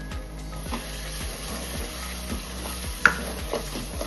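Spices and half a cup of yogurt frying in a pan for a potato and drumstick curry are stirred with a steady sizzle and regular spoon scrapes roughly every half second, plus one sharp clink, close up.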